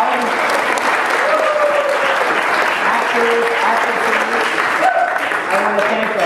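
An audience at a harvest dinner applauds in a loud, sustained round of clapping, with scattered voices and cheers mixed in.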